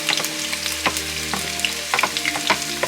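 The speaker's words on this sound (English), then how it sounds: "sauteing our onion" Onion sautéing in half a cup of oil for a chicken feet stew, a steady close sizzle with bursts of crackle and occasional stirring scrapes, no voices.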